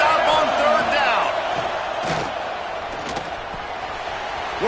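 Football stadium crowd roaring on third down, a loud, sustained wash of cheering and whoops from a large crowd, with a commentator's voice speaking over it.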